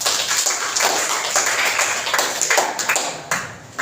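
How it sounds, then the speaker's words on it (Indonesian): A classroom of students claps together in a sustained, dense burst of applause, fairly close and loud, with a few voices mixed in. "Tepuk tangan untuk kita semua."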